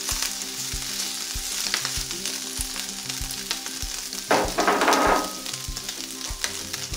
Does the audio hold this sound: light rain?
no